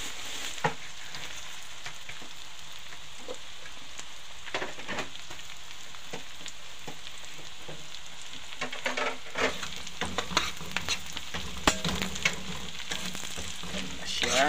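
Ginger hitting hot oil in a pan while cooking pinapaitan, a Filipino beef offal stew, gives a steady close sizzle and frying crackle throughout, with scattered stirring clicks and pops growing busier toward the end.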